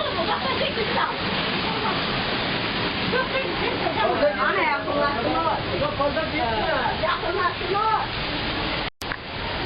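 Düden waterfall roaring inside a cave in Turkey, a steady broadband rush of falling water throughout with a voice talking over it, cut off by a brief dropout near the end.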